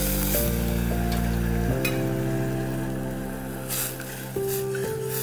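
Asafoetida, turmeric and red chili powder frying in hot oil as the base for an Indian-style chicken soup: a steady, loud sizzle throughout with sustained musical tones behind it and no speech.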